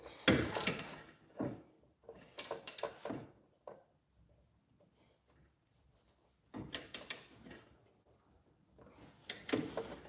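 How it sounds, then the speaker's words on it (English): Ratcheting metal clicks from a wrench tightening a front strut nut on a 2012 Chevy Malibu LT, arriving in close, loud bursts separated by quiet pauses, with no talking. "I put my finger on the back side here to make sure that it's not spinning when I'm tightening that nut"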